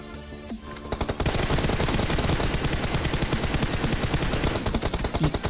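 Sustained rapid automatic gunfire in PUBG Mobile, a dense, loud, continuous burst of shots that starts after a brief lead-in and runs for about five seconds, with no talk over it.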